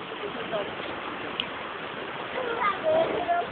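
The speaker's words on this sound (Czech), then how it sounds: "Takhle to teče po zahradě." Floodwater from the Mandava river flows through a garden in Staré Křečany as a steady, moderate rushing wash, with faint voices and small splashes on top.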